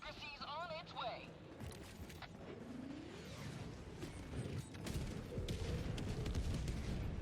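Airstrike explosions tear through a robot fabricator in Helldivers 2: several rumbling, overlapping booms and crashes amid battle noise, with gunfire-like bursts, whistling tones early on, and a voice talking underneath.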